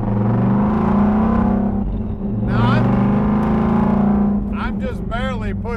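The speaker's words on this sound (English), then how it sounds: "Pushing the accelerator. That's like a quarter throttle right there" A 1967 Ford Mustang Fastback restomod with a six-speed gearbox idles with a deep, steady engine rumble, then rises and falls in short revs at quarter throttle, heard close up. Someone talks over it throughout.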